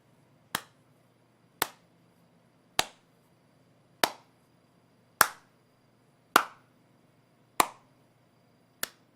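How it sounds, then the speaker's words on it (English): A slow clap: eight single sharp handclaps evenly spaced about a second apart, close and alone in a quiet room. "The slow clap."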